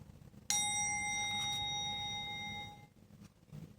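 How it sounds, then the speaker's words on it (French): A meditation gong struck once with a clear attack, then a bright, sustained metallic ring that holds for about two seconds before fading; no talking. "j'ai oublié de faire le gong"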